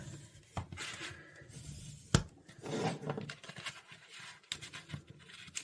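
Edge of a leather handbag being burnished by hand, soft irregular rubbing strokes with a few sharp taps and scrapes, close and quiet, no talk.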